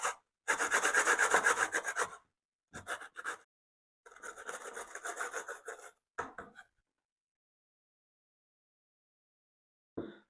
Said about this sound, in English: I'm just going to grate these all up